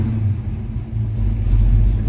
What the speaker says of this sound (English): We're definitely not idling at 500 RPMs